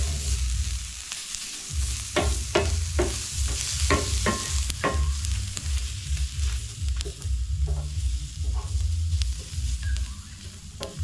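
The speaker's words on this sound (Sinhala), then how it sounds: "චිකන් එකයි ඊළඟට onion capsicum මේක ඔක්කොම අපි හොඳට මික්ස් කරගන්නවා." Chicken, onion and capsicum are tossed together in a bowl, giving repeated soft clattering scrapes and stirring knocks over a steady low rumble, fairly close and without talk.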